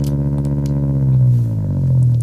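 A procedurally synthesized cheap little petrol engine: a buzzy, distorted low drone with jittery pulsing, pitch sagging slightly midway and then steadying, heard alone and close for a couple of seconds.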